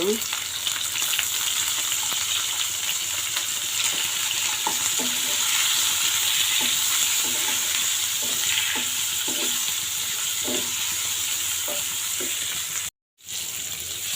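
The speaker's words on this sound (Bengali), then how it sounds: "একটু করলাগুলো আমার ভাজা হয়ে গিয়েছে" Steady sizzling of bitter gourd frying in hot oil with turmeric, continuous and close, with occasional soft stirring clicks and a brief silent gap near the end.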